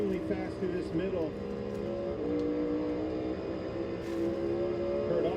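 A NASCAR Cup car on the Bristol dirt track drones at engine pitch, with a brief drop and rise as a gear shift comes through, heard faintly beneath commentators talking.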